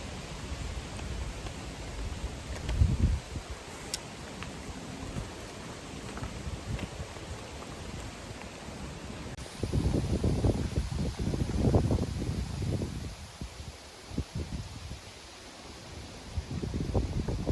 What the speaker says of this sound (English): Wind howling, heavy rain pounding on canvas, and leaves rustling violently.